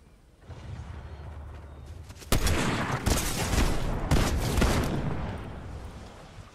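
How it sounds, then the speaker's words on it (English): Gunfire in Fortnite: after a quiet lead-in, several loud, sharp bursts of shots crack and echo in quick succession, trailing off into rumble at the end. "I heard shots from over there, but I don't know where he is."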